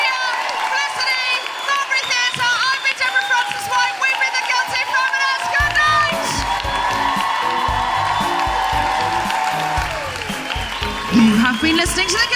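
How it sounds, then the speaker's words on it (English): A theatre audience at the Mulberry Theatre applauds a live comedy podcast recording, steady clapping and whoops filling the room at close range, with music and voices running underneath throughout. "Big round of applause for our guests."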